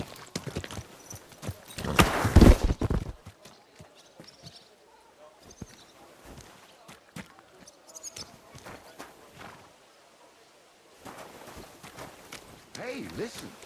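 Horse hooves clip-clop on the ground in the medieval game Kingdom Come Deliverance 2, a loud burst of steps early on followed by quieter, scattered footfalls.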